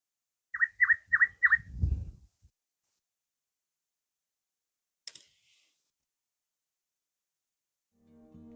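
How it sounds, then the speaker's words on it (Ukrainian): A nightingale sings at a quiet steppe cemetery: four quick, clear whistled notes, then a low thump, a faint click and long silence before a low rumble at the end. "Соловей співає."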